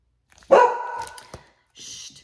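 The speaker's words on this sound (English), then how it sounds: "Shh, sorry, that was my dog." An old nine-year-old Australian Shepherd gives one loud, close bark that trails into a short growling tail, followed after a pause by a softer second sound, indoors and otherwise quiet.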